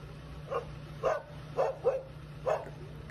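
A dog wedged between metal bars gives five short, thin barks or yips spaced about half a second apart, faint and somewhat distant over a low steady hum.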